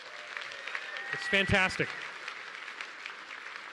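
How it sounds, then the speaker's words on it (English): An audience applauds steadily at a talk, with a moderate patter of clapping throughout and a brief spoken remark from a person near the middle. "Give them a big round of applause, everybody."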